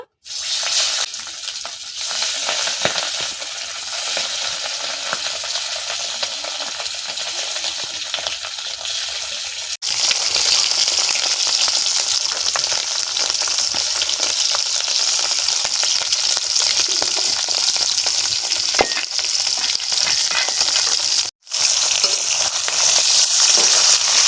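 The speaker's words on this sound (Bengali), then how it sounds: "তেল গরম হয়ে গেছে, একে একে মাছগুলো দিয়ে দেব।" Continuous crackling sizzle of ribbonfish frying in mustard oil, growing louder partway through, with a brief dropout near the end.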